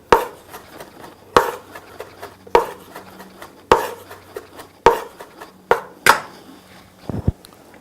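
A knife chops fresh rosemary on a board with about seven crisp, evenly spaced strikes, each sharp and close, with quieter rustling between them and a quick double tap at the end.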